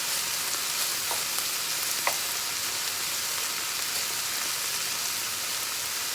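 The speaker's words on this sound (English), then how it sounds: "you want to really cook this tomato paste for a few minutes in this well before you fold it in" Tomato paste sizzles steadily in a hot pan as it cooks in a cleared well of other ingredients, giving a close, even hiss with a couple of faint clicks.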